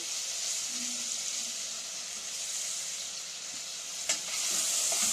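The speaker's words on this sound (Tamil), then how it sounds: "இப்போ வெங்காயம் நல்லா வதங்கி விடட்டும்." Onions sauté in a pan for a creamy garlic mushroom curry, giving a continuous close hiss and sizzle throughout with a single sharp clink of a utensil near the end.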